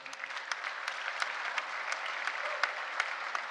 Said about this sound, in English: So hands of applause to all of you.